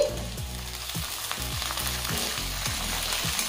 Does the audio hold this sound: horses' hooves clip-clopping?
no